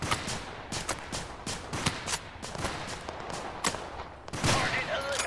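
Rapid gunfire bursts in the video game Total Conflict: Resistance, sharp repeated shots in an uneven rhythm, fairly close, with scattered distant reports and a faint voice underneath.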